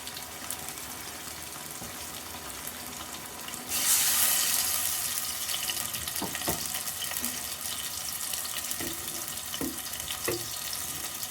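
Water is poured into a pan of frying onions and ginger-garlic paste, bringing a sudden swell of sizzling and bubbling that continues steadily, with a few faint utensil taps near the end.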